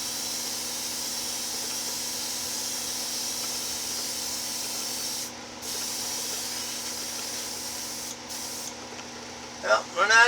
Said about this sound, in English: I'm going to open it up and spray it down